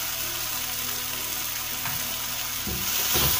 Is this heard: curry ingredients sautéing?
yes